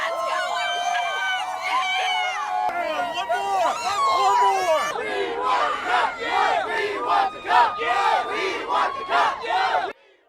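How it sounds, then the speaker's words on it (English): Hockey fans leave the Ball Arena watch party in Denver during the Stanley Cup Final, a large crowd cheering and whooping continuously in loud overlapping shouts and yells outdoors, ending abruptly. "As people were leaving the Ball Arena watch party, we heard them cheering."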